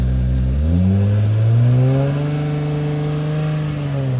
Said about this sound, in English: So then your idle's at like 1200.